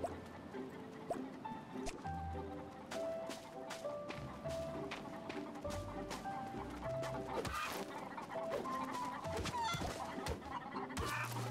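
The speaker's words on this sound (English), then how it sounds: "Oh, it's a chicken! It's a freaking chicken!" Clucking chickens in the video game Pathless Woods, several brief calls repeating over a dense, busy game soundscape with music-like tones, fairly loud and continuous throughout.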